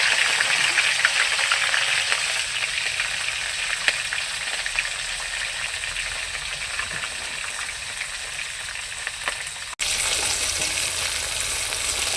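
Steady, close sizzling of green beans frying in hot oil, a continuous crackling hiss with a brief break near the end, no voices.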